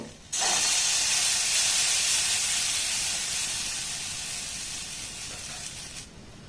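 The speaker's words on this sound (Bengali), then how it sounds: "আবারও 1 হাতা ব্যাটার আমি দিয়ে দেব" A ladleful of rice-semolina batter for chitoi pitha hits a hot, oiled pan, setting off a sudden loud, close hiss that slowly fades over several seconds.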